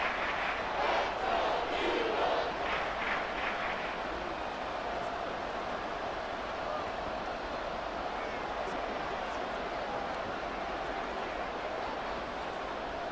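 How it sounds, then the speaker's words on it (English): Simulated stadium crowd at an NFL Bills versus Eagles game in Madden 24 roars steadily, louder at first and then settling into a sustained distant din, with commentary talking over it. "This crowd turning up the decibel level."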